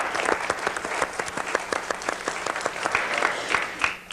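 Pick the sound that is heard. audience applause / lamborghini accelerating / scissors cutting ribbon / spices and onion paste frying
audience applause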